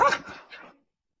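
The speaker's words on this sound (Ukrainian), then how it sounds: "Неподалік в очікуванні автомобіля радісно виконує команди наставниці Ліни прикордонний пес Хамер." A Ukrainian border guard dog, working with its handler at a checkpoint in Zakarpattia, gives a couple of quick, loud, close barks and yips that fade out within a second.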